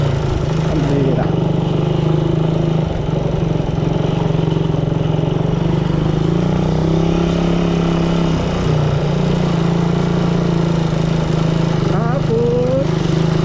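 A Honda Raider 150 motorcycle engine running while riding, a steady loud buzzing drone with shifting pitch as the throttle changes, close and continuous throughout.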